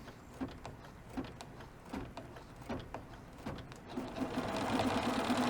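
A B990 embroidery machine stitches an edge-to-edge design with a steady, rhythmic mechanical chatter and repeating pulses. The whir rises and speeds up near the end, close and without talk.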